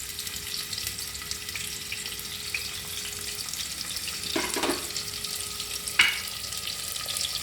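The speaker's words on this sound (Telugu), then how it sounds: "ఇవి ఉల్లిపాయలు కరివేపాకు పోపు దినుసులండి అన్నీ ఒకేసారి వేసేస్తున్నాం" Onions, curry leaves and tempering spices frying in hot oil, a continuous close sizzle with a few sharp clinks of a utensil against the pan.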